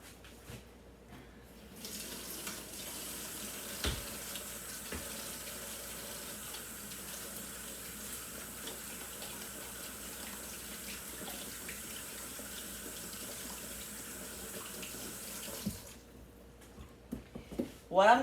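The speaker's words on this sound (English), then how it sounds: "And I'm going to wash my hands quick." Water runs steadily from a kitchen tap into the sink during hand washing, a continuous broadband rush that lasts about fifteen seconds before cutting off, with faint clatter and voices at the edges.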